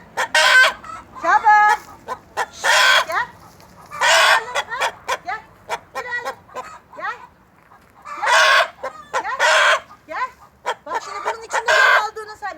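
Chickens fed on organic mulberries cluck repeatedly in a village farmyard, with bursts of close clucking and a rooster crow, alternating with quieter gaps.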